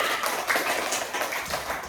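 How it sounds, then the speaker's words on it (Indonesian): A classroom of students claps together on cue during a lesson, a dense, steady burst of many hands applauding at close range with no talk over it. "Tepuk tangan dulu semua"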